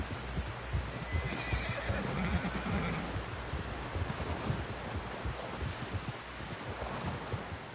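In the game Red Dead Redemption II, a horse whinnies loudly and snorts amid shuffling hooves and wind, with the neighing prominent in the first half before settling into restless hoof movement.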